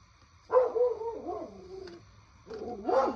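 A dog barking nearby indoors: two short bursts of barks or yips separated by a pause, moderately loud with a quiet background between them.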